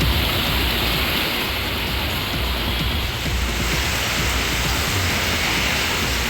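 Rain falls around Hosur in Krishnagiri district, Tamil Nadu, as a dense, loud, unbroken hiss that stays constant throughout. No voices or other distinct sounds break through.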